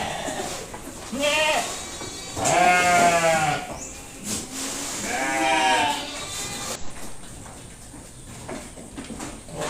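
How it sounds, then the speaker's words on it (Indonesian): Young full-blood Boer goats and merino sheep bleat on a farm in several loud, wavering calls close by, with quieter stretches in between. "Itu ada kambing bur full blood, masih muda, masih kecil."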